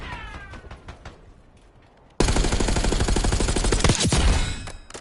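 Rapid automatic gunfire in Call of Duty: Black Ops 6 bursts in loud and sustained after a quieter stretch of scattered game sounds, continuing densely to the end.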